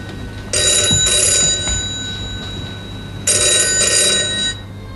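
Telephone bell ringing in two loud, close bursts, each a rapid trilling double ring with a short pause between, in a quiet room with no talk.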